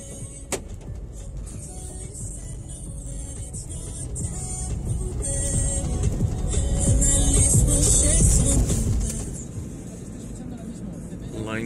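A car drives along a town road, its engine and road rumble swelling in the middle and then easing, heard from inside the cabin with a person talking over the noise.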